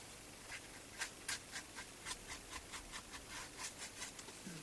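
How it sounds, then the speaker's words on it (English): Paper card edges are scuffed and scruffed by hand, a rapid series of soft, faint rubbing scratches in a quick regular rhythm. "I'm just going to scruff up the edges so that it matches."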